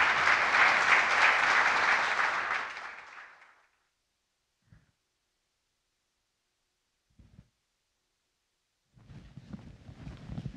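An audience at Affiliate Summit East 2014 breaks into loud, dense applause welcoming the keynote speaker, which fades out after a few seconds. A couple of faint knocks follow, then light clapping or rustling returns near the end.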